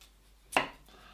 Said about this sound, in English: When cutting up your potatoes, you want to try and cut them up quite even so they all cook at the same sort of rate.